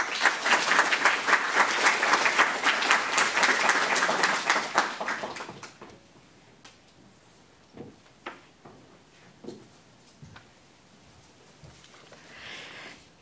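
Audience applause at a panel event on decolonising gender, loud sustained clapping from a crowd for about five seconds, then fading to a few scattered claps and room noise.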